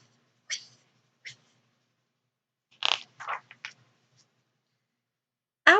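A voice imitates a rotating lawn sprinkler with quiet, scattered hissing "ch" bursts, spaced irregularly over several seconds with silence in between.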